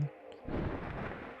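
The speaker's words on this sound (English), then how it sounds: "not the greatest sound effect I've ever heard for flapping wings" A flapping-wings sound effect from the Zelda: Twilight Princess video game lands as a single deep, muffled whump, more like a distant heavy stomp than a flutter, then fades into a low rumble.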